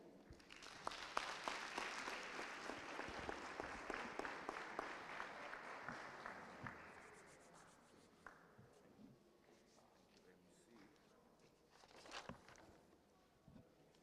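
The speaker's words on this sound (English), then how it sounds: "you could just assist me as we welcome uPremier wethu with a warm clap of hands" An audience at a Gauteng Freedom Day 2022 event claps warmly to welcome the Premier, with dense applause that fades after about seven seconds, followed by a quieter stretch and a brief final burst.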